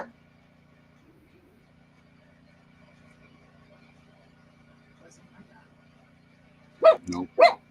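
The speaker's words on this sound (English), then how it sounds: "Nope, that's our dog." A household dog barks three times in quick succession near the end, loud and close, after a long stretch of near silence with only a faint low hum.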